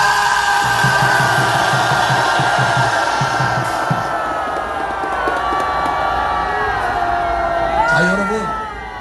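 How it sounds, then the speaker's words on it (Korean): A rally crowd at an outdoor political gathering roars in a sustained mass shout, loud and continuous for several seconds, with rhythmic chanting early on and a lone voice rising near the end as the cheer fades. "함성"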